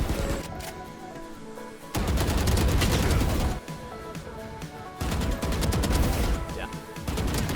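Close-range gunfire in a Valorant run-and-gun fight comes as loud, rapid automatic bursts in three long strings, with short quieter gaps of movement between them.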